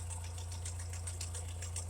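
A Ferguson TO35 tractor fitted with a Wagner WM120 loader idles quietly with a steady low hum and a fast, even ticking rhythm, with no other sounds.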